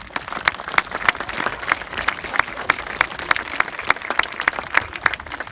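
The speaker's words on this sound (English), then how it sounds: "Let's give him a little round of applause." An audience at a memorial playground dedication gives a short round of applause: crisp, scattered individual claps over a soft crowd bed, steady and moderately loud throughout.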